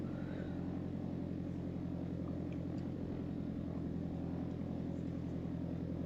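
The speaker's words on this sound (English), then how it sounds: "Just easing the pressure off of that nose wheel as we taxi." Piper Arrow III light aircraft taxiing near the runway, a steady propeller-engine drone with rhythmic pulsing throughout, close and constant with no talk.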